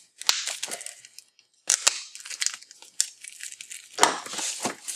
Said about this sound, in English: got the plastic off